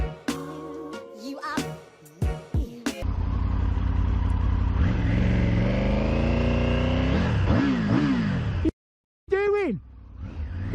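A motorcycle launches hard from a standstill in traffic and revs up, engine note climbing and falling through gear changes, loud and close, with people talking over parts of it and a short gap near the end.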